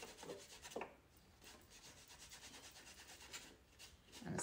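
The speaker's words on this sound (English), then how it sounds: "a sponge dobbler works really well for rubbing that excess off." A sponge dauber rubbing excess gilding leaf off a rubber stamp, producing soft, close, repeated scratchy rubbing strokes in a quiet setting.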